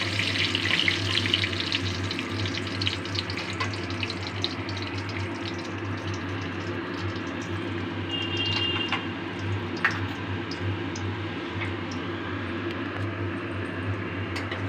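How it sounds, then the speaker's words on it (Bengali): Whole cardamom, cinnamon stick, clove and bay leaf sizzle steadily in hot oil over a very low gas flame, a continuous close frying hiss with small crackles and no voices. "ওই তেলের মধ্যে আমি দুটো এলাচ, একটা দারচিনি, একটা লবঙ্গ আর একটা তেজপাতা ফোড়নে দিয়ে দিলাম।"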